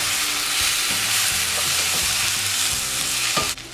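Red beans and rice being stirred in a hot pan, a loud close sizzle with spoon scrapes and knocks mixed in, no voices.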